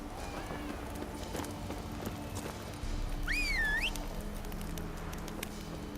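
Horse hooves galloping in The Witcher 3: Wild Hunt, a steady clip-clop rhythm running throughout, joined midway by a brief rising whistle-like tone.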